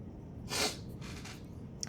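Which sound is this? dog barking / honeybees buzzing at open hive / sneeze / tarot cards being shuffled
sneeze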